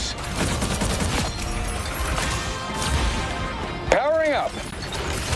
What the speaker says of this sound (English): Anyone say fireworks?